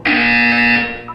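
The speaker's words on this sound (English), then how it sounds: "You will hear a buzzer. When you hear the buzzer, look up at the ceiling" A buzzer in the video game Portal 2 gives one loud, harsh, sustained electronic buzz lasting about a second before cutting off.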